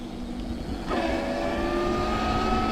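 An electric mountain bike motor spinning up at full throttle in boost mode, a close whining drone that rises sharply in pitch and holds steady at the top, with no talking.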